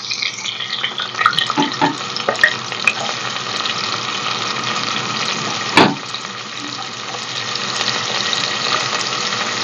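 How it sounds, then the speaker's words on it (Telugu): Sliced onions sizzle in hot oil with whole spices such as cinnamon and bay leaf, a dense, even crackle running throughout, broken by a sharp clatter of a utensil against the pan. "ఇప్పుడు ఉల్లిపాయలు వేసుకుందాం"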